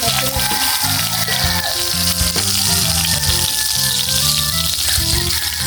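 Danggit and ketong fish fry in hot oil with a dense, continuous sizzle and crackle close by. Background music plays softly underneath.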